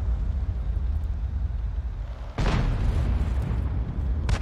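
A Panzer IV H tank in a video game fires on a RAM tank. Two sharp blasts cut through a steady low engine rumble, one loud near the middle and a shorter one near the end.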